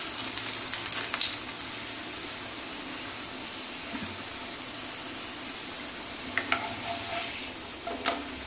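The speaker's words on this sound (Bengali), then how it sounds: "ভালো করে দুটো পিট ভেজে নিতে হবে।" Beetroot fries in a pan with a constant moderate hiss, joined by a few clinks and stirring scrapes near the end.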